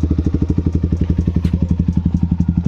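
A modified 2024 Yamaha R15M motorcycle fitted with an Akrapovic exhaust runs with a steady, rapid, bassy thumping pulse close by, with no talking.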